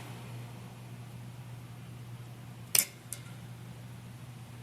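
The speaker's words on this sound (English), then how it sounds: "And then I'll cut the tails off." Scissors snip the knot tails off a tiny kandi bat charm, two quick crisp cuts close to the mic over a steady low hum.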